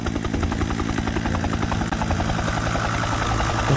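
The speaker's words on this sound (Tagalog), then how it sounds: "Helicopter naman." A helicopter thumps loudly and continuously nearby near Quirino Station, its rotor beating in a rapid steady rhythm over an engine drone.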